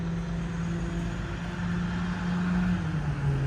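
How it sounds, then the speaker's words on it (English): A garbage truck drives along a residential street, its engine a steady low rumble that holds at moderate loudness and swells slightly as it passes nearby, with no voices. "Here comes the trash truck."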